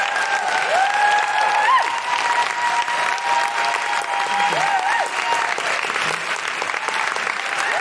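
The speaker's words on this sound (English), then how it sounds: "Please give your thanks through applause for Dr." An audience at a live comedy and talk event applauds warmly and steadily, dense clapping throughout with a few whoops rising above it.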